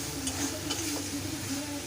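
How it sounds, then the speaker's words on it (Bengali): Soaked Gobindobhog rice being stirred and fried with spices in a pan, a soft steady scraping and light sizzle with faint clinks, close and continuous, no talking. "এবার চালটা দিয়ে কিছুক্ষণ কষাতে হবে।"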